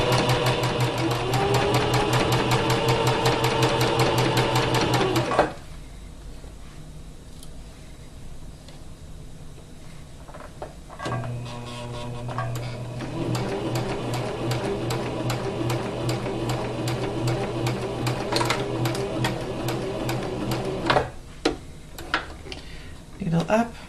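Sewing machine stitching backwards and forwards through fabric, a fast close mechanical whir that runs about five seconds, pauses, then resumes for another long run ending with a few clicks.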